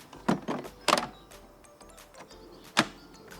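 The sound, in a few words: EGO mower battery pushed and clicked into place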